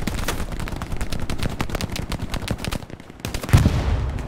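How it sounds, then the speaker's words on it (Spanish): Gunfire in the World War II shooter Hell Let Loose: rapid machine-gun bursts and rifle shots crackling in a steady fast rhythm, briefly thinning out before a louder close shot and renewed firing. "Me están disparando, no sé ni de dónde."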